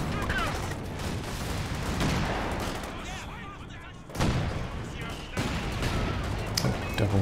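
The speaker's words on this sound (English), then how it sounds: "Mortars coming down on these support weapons here." Mortar fire and gunfire from the video game Company of Heroes 2, rattling bursts and thuds in a busy battle mix, moderately quiet and continuous.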